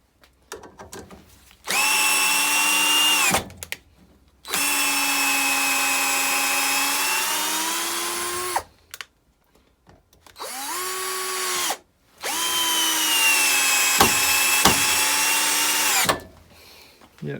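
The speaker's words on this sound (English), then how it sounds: "that will easily put a 4-inch screw in the low gear range" Raitool 48VF cordless drill in low gear driving a 4-inch screw, whining steadily in four long bursts with short pauses between, pitch sagging under load, a few ratcheting clicks near the end, close and loud with no voices.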